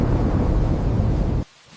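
Thunder from a rainy-night storm around a mobile home, a loud deep rolling rumble that cuts off abruptly, leaving near silence and a faint brief tone.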